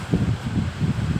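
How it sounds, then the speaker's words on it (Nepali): Strong wind at the Nagarkot hilltop buffets the microphone in low, rumbling gusts that pulse repeatedly throughout, close and loud with no voices. "हावाहुरी मजाले लागेको छ"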